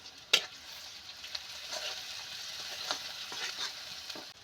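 Onion, ginger and garlic fry in oil for a bitter gourd curry, giving a soft, steady sizzle with one sharp clink near the start and occasional light scrapes, faint and close with no talking.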